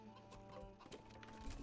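Chickens cluck in a medieval village during a Manor Lords city-building game. Several short, busy clucks run steadily over low game ambience and music.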